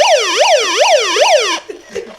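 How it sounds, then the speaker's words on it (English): A loud, close electronic megaphone siren wailing up and down in rapid repeated sweeps, cutting off abruptly, followed by faint clatter. "make it do the siren"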